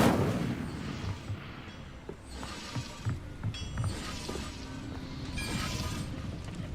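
Incendio, a fire spell, is cast in the video game Hogwarts Legacy, giving bursts of crackling, booming impacts over a rumbling game soundscape with shimmering magical tones, moderately loud and repeated across the stretch.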